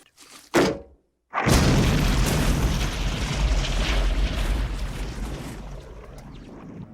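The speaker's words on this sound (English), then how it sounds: "No one could have survived that blast." A sharp pop, a brief silence, then a massive booming blast that roars loudly and slowly fades away.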